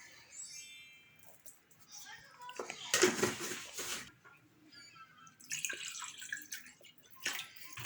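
A glass of water is poured into a bowl of pizza dough mix with olive oil and salt, making a close splashing gush and drips between quiet pauses, with a voice briefly heard.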